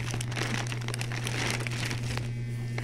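Plastic bag crinkling and rustling steadily while family-size snack packs are wrapped for a small shop, close and continuous, with a low steady hum underneath.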